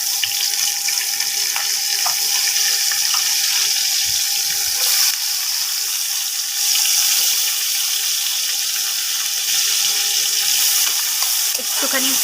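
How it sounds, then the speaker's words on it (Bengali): Onion, tomato and a chili frying in hot oil for a Bengali potato and pointed gourd curry give a steady, loud sizzle and hiss that runs unbroken for the whole stretch. "তেল গরম হয়ে গেছে বন্ধুরা, এবার পেঁয়াজ, টমেটো আর একটা লঙ্কা দেব।"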